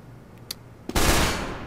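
Shotgun firing in a video game, a couple of sharp clicks followed by one loud close blast that trails off into a long rumble.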